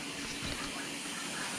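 Water rinses the camera of a DeLaval VMS milking robot in a steady, close rushing spray that runs unbroken the whole time.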